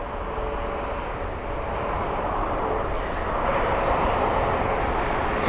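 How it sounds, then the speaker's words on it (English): Jet airliner noise at London Heathrow, an Airbus A350-1000, a broad steady roar that stays loud and constant throughout with no voices. "There's the A350-1000 then, and the Royal Air Maroc 737 MAX 8."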